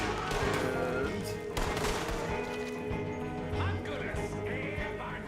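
Gunfire cracks out in a Wild West video game, a few sharp shots standing out over a dense, continuous bed of game sound and music, with possible hoof clatter underneath.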